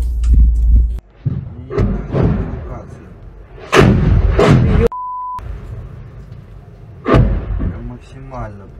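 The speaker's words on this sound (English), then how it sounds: "Russian aviation and artillery are striking the bunkers and strongholds of the Ukrainian armed forces." Artillery fire striking bunkers and strongholds of Ukrainian positions, heard as several loud, heavy blasts spread through the stretch, with a brief steady electronic beep between impacts and voices talking underneath.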